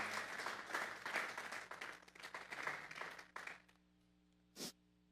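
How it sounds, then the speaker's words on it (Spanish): A church congregation at a Sunday afternoon service bursts into dense applause that thins out and stops after a few seconds, leaving quiet with a single short noise near the end. "Démosle un fuerte aplauso pues al Señor esta tarde."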